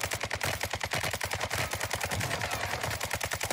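Gunshots in the video game Warzone 2, a rapid continuous automatic volley of sharp evenly spaced cracks, loud and close, running the whole stretch without pause.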